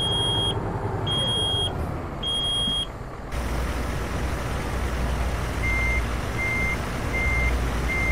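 A truck reversing in American Truck Simulator sounds its backup alarm in evenly spaced electronic beeps over a low engine drone, then the tone shifts to a fainter, slower beep pattern.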